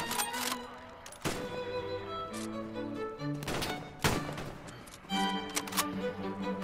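Repeated gunshots from a sniper fight in a video game, sharp cracks in short bursts with ringing tails, loud and close, with faint game background between shots.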